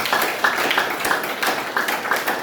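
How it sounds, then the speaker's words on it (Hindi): Applause from an audience at a Hindi spiritual talk: a dense, continuous patter of many hands, with sharper individual claps standing out at a steady, moderately loud level. "तालियां बजाइए उसके लिए"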